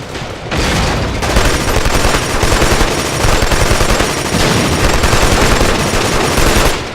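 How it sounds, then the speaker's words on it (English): Loud, sustained gunfire in a video game, rapid machine-gun bursts that run almost continuously after a brief start, with no talking over them. "Just the simple act of shooting guns in this game,"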